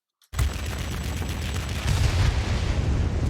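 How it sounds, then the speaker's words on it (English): A bomb blast in the World of Warplanes air-combat game: a loud, sudden burst that breaks into a sustained, rumbling roar lasting several seconds. "I get caught in a bomb blast"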